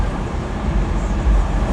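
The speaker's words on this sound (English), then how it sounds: "But there's the traffic" Saturday night road traffic in Gatlinburg heard from inside a moving car, a steady low rumble of engines and tires with no distinct passing events.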